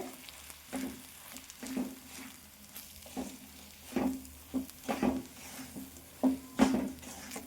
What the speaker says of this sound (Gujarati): હવે આપણે તેમાં આપણો સોજી એડ કરી દઈશું અને હવે સોજીને આપણે મસ્ત રીતે શેકી લેવાનું છે